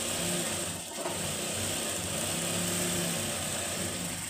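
A sewing machine stitches the mohri (hem) of a Patiala or Afghani salwar, giving a steady, quiet mechanical whir that runs on without pause, with no voices.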